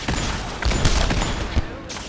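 Fallout 4 turrets fire in rapid, booming bursts of gunshots with heavy low thumps, close and loud, overlapping a voice speaking.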